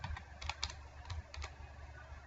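Steady typing on a computer keyboard while filling in an email address on a resume in MS Word, a run of quick, close, light key clicks with a few louder taps and no voices.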